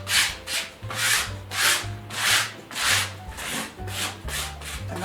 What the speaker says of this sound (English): you do that by sanding it with just a fine grained sandpaper